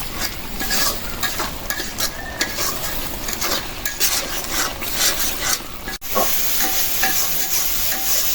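Ground spice paste frying with prawns in a pan, a busy sizzle under constant scraping stirs and a sharp knock of the utensil partway through, close and fairly loud, with no talking.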